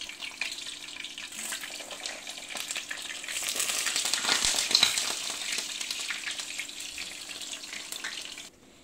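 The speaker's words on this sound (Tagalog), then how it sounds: "Kaya ito pipirituhin ko." Eggplant sizzles and crackles steadily in hot oil in a pan, a dense close frying hiss that swells in the middle and then cuts off abruptly, with no talking.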